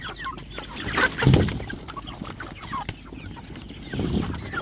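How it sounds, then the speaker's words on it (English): Chickens cluck and murmur close by, several birds overlapping in a busy, steady chatter with a few louder squawks. "Completely forgot I have meat chickens here until they started acting like they wanted what I had."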